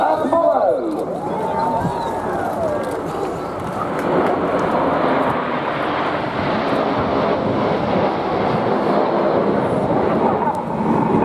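Nine RAF Red Arrows jets in display formation trailing smoke at the Eastbourne airshow, a loud, steady roar of jet engines that swells and holds throughout while a commentator talks over it.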